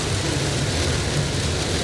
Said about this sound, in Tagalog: Grabe lakas ng ulan dito